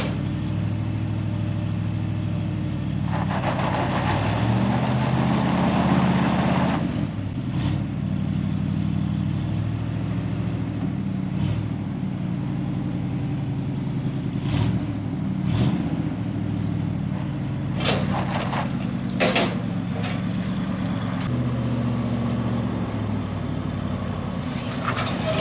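Junk truck engine running and revving as it is driven up onto a trailer, a steady mid-pitched rumble with swells of acceleration and occasional clanks and knocks.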